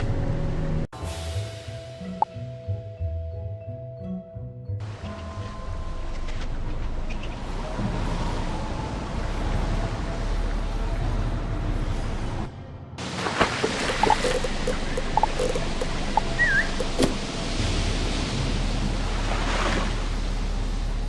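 Wind and surf at Crescent Beach in the Wizard101 video game, a steady wash of waves and gusty wind that shifts across several sections, fairly loud and continuous with no talking.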